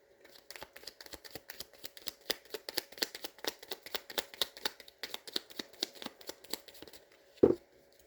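Crisp, rapid riffling of a tarot card deck repeated in quick bursts, close and quiet, ending with a sharper tap as the cards settle.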